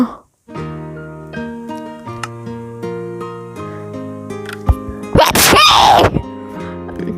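A single loud, abrupt sneeze bursts out near the mic, up close over steady Minecraft game music and sounds.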